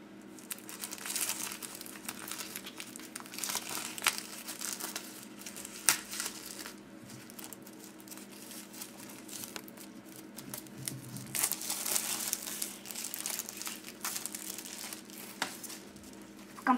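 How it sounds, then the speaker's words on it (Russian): Packaging for a wooden bison model kit is opened and unpacked, giving steady close crinkling and rustling with small taps and tears throughout, fairly quiet and with no talking. "Сейчас мы с вами открываем и посмотрим все, что входит в этот комплект."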